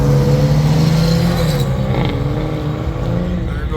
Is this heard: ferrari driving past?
yes